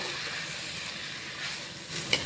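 Rice frying lightly in a pan while making coconut milk bagara rice, a soft steady sizzle with faint stirring, close and quiet, with a small clink near the end.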